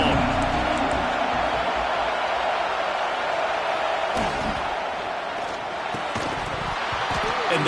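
A football stadium crowd at an Alabama game, a broad, loud roar of massed voices filling the space, steady for several seconds with thuds and a commentator talking over it.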